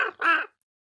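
A person imitates a tropical bird with a single harsh, raspy squawk, loud and close, split into two quick parts and then cut off into silence.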